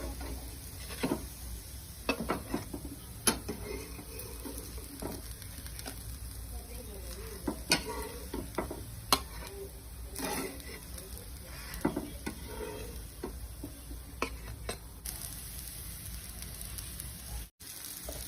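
Aloo tikki shallow-frying on a tawa with oil added over the top, a faint, steady sizzle broken by scattered small pops and ticks for the whole stretch.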